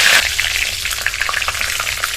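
Curry leaves are dropped into hot oil with black mustard seeds, cumin and asafoetida, producing a loud, close sizzle with a brief burst at the start, then a crackling, spitting fry.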